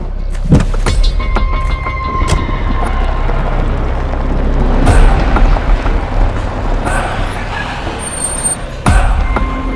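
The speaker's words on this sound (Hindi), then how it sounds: "दादा, आप गाड़ी स्टार्ट करो, हम दोनों यहाँ से धक्का मारते हैं।" Someone cranks and starts a car while two people push it, at night beside a train. Loud engine and motor noise holds steady, with sharp knocks and clunks near the start and middle and a louder burst near the end.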